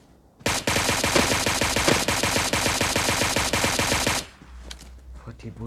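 Rapid automatic gunfire from a battle royale video game, loud and sustained for several seconds as a dense stream of shots, then cutting off abruptly into quieter game noise with a few faint distant pops.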